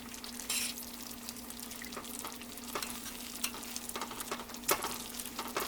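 Swiss steak simmers in gravy over very low heat, giving a steady soft sizzle with scattered small pops and bubbling clicks throughout, fairly close and moderately quiet, with no voices.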